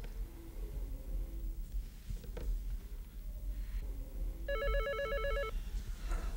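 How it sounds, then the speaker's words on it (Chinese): A telephone ringing in a home, one electronic ring burst late in the stretch over faint room tone, no talking. "我去接个电话。"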